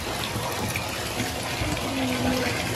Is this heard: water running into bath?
yes